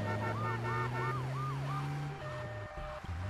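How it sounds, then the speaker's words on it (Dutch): Emergency sirens in the video game GTA 3 wail in rising and falling cycles over a steady engine drone, cutting off partway as the game audio shifts, with a few thuds near the end. "Ik hoor sirenes."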